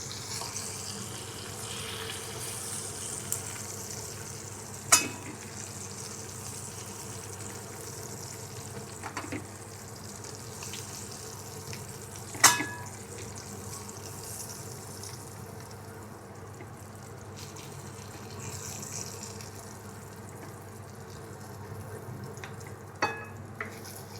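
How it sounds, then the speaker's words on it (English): Food boiling and cooking in a pot gives off a quiet, steady bubbling hiss throughout, with a few sharp clinks now and then. "You continue boiling and you continue cooking."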